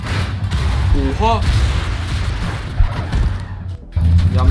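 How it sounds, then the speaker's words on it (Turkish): Truck slamming into a tree in the video game Clustertruck, a cluster of crashing impacts and thuds mixed with game noise while someone talks excitedly over it. "Yandaki ağaca tosladık ya."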